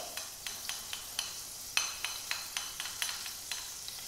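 Chopped shallots sweat gently in fresh butter in a pan, a soft faint sizzle broken by regular light scraping strokes of a spoon or spatula stirring, roughly twice a second.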